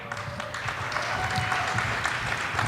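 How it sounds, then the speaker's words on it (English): Steady applause from an audience, a dense wash of clapping that holds at an even level throughout, with a faint voice under it. "let's give a round of applause for this very hard work."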